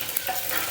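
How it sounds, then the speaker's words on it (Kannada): Tempering sizzles in hot oil in a home kitchen, a brief, steady crackling hiss heard close up with no talk. "ಆಲ್ರೆಡಿ ಈಕಿ ಒಗ್ಗರಣೆ ಹಾಕಾಕತ್ಲು"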